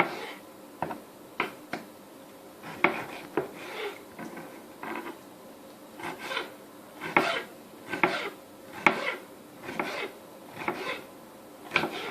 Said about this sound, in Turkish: Şimdi turşu salatamız, salatalığımızı doğrayacağım.